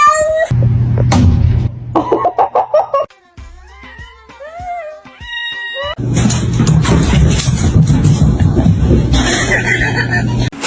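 Cats fight up close with loud yowls, drawn-out caterwauling meows and sharp hisses, pausing briefly before a second burst of snarling and screeching.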